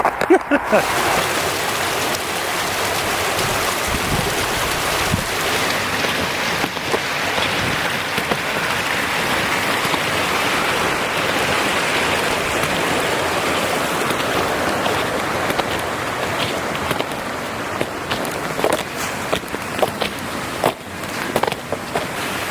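Water rushes steadily in Coal Creek as someone crosses it in snowy woods in subzero cold: a close, continuous babbling wash with occasional bumps and crunches.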